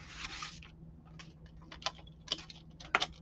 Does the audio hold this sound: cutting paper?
yes